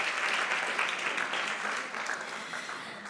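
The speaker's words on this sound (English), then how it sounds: "Let's give them a really big round of applause for all the work that they do." A roomful of people give sustained applause for local charity organisations in Marbella, dense even clapping filling the short stretch and easing slightly toward the end.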